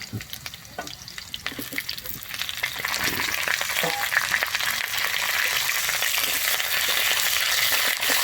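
Flat beans are added to potatoes frying in a pan. Scattered clinks and crackles give way to a loud, steady hiss of sizzling that swells and holds, heard up close.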